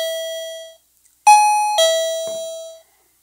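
Two wireless doorbell chimes ring out clearly, a single tone followed after a pause by a two-note ding-dong, with no talking.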